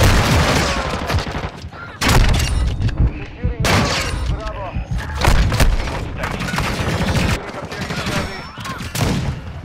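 Dense gunfire from a modded gun in Call of Duty on the Shipment map, with bursts of shots and booms close and loud throughout, overlapping explosions and game chaos.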